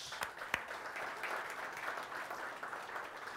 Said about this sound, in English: let's just give our ladies a round of applause